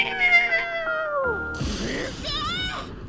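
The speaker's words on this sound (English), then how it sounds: "Horny cat is back!" A cat yowls and caterwauls in the visual novel Sankaku Renai, with long drawn-out wailing meows that bend in pitch, followed by a voice talking over further cries.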